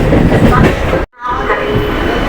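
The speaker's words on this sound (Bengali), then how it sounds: "সামনের থেকে একটা এক্সপ্রেস ট্রেন আসছে দেখতে পাচ্ছেন, সম্ভবত হাওড়া সাহেবগঞ্জ ইন্টারসিটি এক্সপ্রেস" An express train, likely the Howrah Sahibganj Intercity Express, approaches on the line into Howrah, a loud continuous rail rumble and rattle broken by one brief cut-out before the roar resumes.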